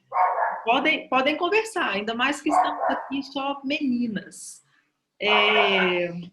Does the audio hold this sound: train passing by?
no